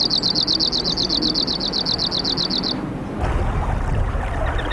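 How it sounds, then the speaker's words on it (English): An Arctic warbler sings in Denali's Igloo Canyon, a rapid, even, buzzy trill of repeated notes lasting a few seconds, fairly near and over a steady wash of wind or flowing water that continues after the song stops. "The Arctic warbler travels from Southeast Asia to bring his song to Igloo"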